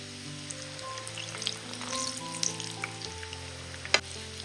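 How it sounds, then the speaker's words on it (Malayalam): Urad dal vada (uzhunnu vada) frying in hot oil over a medium flame, a steady soft sizzle with crackling bubbles and an occasional sharper pop, alone with no talking. "മീഡിയം ഫ്ലെയിമിൽ ഇട്ടിട്ട് വേണം ഇത് ഫ്രൈ ചെയ്തെടുക്കാനായിട്ട്."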